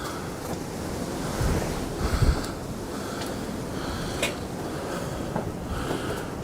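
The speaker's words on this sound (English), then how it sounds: "It is mega windy up here." Strong wind buffets a hilltop, roaring in gusts with rumbling microphone wind noise that swells and eases, loud and close, with no speech.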